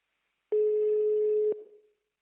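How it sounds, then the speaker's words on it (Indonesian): A single electronic telephone tone, one steady beep lasting about a second, clean and close, then quickly fading. "Telepon Naila ah."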